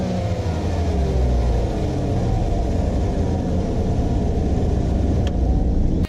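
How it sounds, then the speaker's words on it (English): Pickup truck idling steadily just after an S&B cold air intake install, a loud close low rumble with an even engine drone throughout, no one talking. "we will fire the truck up and just kind of make sure everything is nice and tight and see how it sounds"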